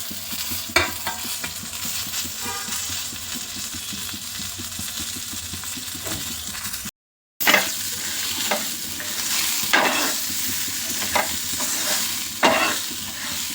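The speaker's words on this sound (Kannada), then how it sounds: "ಬೆಳ್ಳುಳ್ಳಿ ಮತ್ತು ಮೆಣಸಿನ್ಕಾಯಿ ಎಲ್ಲ ಒಂದು ಒಟ್ಟಿಗೆ ಹಾಕ್ಕೊಂಡು ಚೆನ್ನಾಗಿ ಡ್ರೈ ರೋಸ್ಟ್ ಮಾಡ್ಕೊಳ್ಳೋಣ" Garlic and chillies dry roasting in a pan while a spoon stirs them, giving steady scraping and light sizzling with sharper clinks and scrapes now and then, close by and alone, broken by a short gap.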